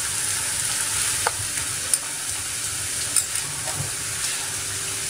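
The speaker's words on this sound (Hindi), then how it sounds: "देखिए प्याज पक रहा है, चिली भी साथ में" Onion and chili fry in a pan over a high flame, giving a steady, close sizzle with a few sharp clicks and scrapes of stirring and no voices.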